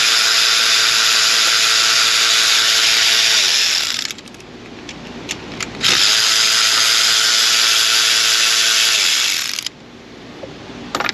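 A power tool, likely an impact driver or drill, spins out engine nuts and bolts on a 5.3-litre Silverado V8 in long, loud whirring runs, broken by a quieter stretch of clicks and handling noise.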